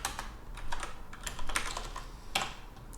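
Someone types an Octave command on a computer keyboard, a quick run of clicky keystrokes in small clusters, close and fairly loud, with no talking.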